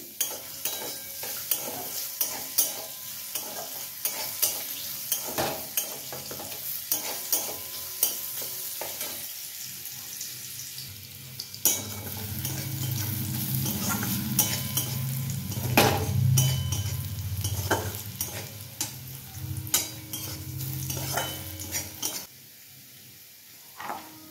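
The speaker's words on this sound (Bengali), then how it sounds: "আগে গাজরটা একটু ফ্রাই করে নিই।" Carrots frying in a pan, stirred with repeated scraping and clattering of a utensil against the metal over a steady sizzle, which swells louder in the middle and fades out near the end.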